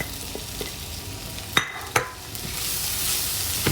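Zucchini in tomato sauce with basil stirred in a pan, a soft continuous simmer with a couple of sharp spoon knocks against the pan, close and quiet.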